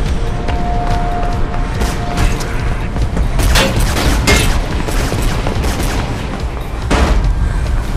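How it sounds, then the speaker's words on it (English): Several loud video game gunshots ring out at irregular intervals, sharp bursts cracking over a constant rumbling background with no one speaking. "I can hear gunshots"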